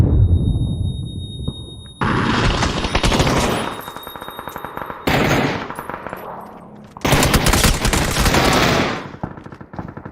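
Automatic gunfire in the battle-royale video game PUBG, sustained bursts of rapid shots in several long loud volleys separated by short pauses, with no talking.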